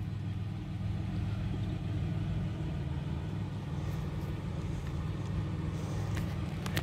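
The engine of a 1988 Oldsmobile 98 Regency Brougham, which has a starter problem, runs at a steady idle, giving a continuous low rumble heard close and unbroken throughout.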